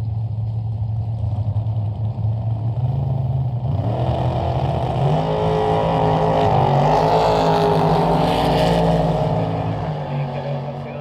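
A drag racing car at the Alastaro race track, engine idling low and then revving up into a loud, rising roar, close and steady over several seconds, with no voices.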